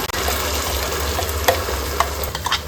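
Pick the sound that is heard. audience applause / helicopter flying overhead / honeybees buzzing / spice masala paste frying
spice masala paste frying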